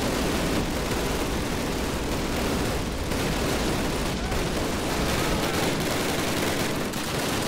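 Dense, continuous gunfire in the video game Call of Duty (2003) crackles steadily throughout, a loud wash of rapid shots with no pauses or voices.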